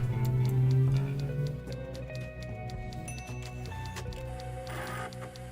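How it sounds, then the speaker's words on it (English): A dot-matrix-printer-like mechanical ticking from the Delores: A Thimbleweed Park mini-adventure game, a steady rapid chatter of small clicks running under in-game music and tones throughout. "I don't know where that the printer sound is coming from."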